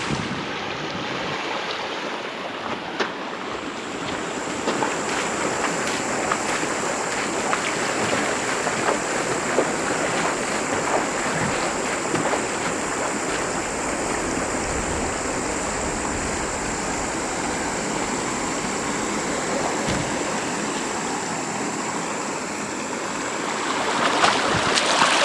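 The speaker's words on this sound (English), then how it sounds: "This is where Jordan Hot Springs comes out as a little creek into the Middle Fork." Little creek from Jordan Hot Springs pouring into the Middle Fork of the Gila River in the Gila Wilderness, a steady, full rushing and babbling of water close by, continuous and unbroken for the whole stretch with no voices.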